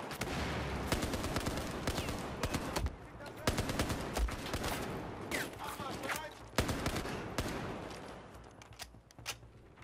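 Bursts of gunfire from a Battlefield 4 firefight, sharp volleys and rapid automatic shots in irregular clusters with brief lulls, fairly loud, with a voice talking intermittently underneath.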